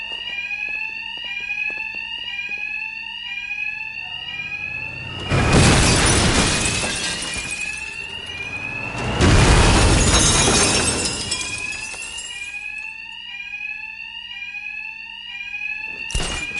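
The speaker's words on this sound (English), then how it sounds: "thugs can't hear a thing over the alarms" Bank alarms in the video game Batman Arkham Knight ring continuously with a loud warbling electronic wail, broken twice by heavy crashes of shattering glass and explosive impacts, then the alarm tone carries on.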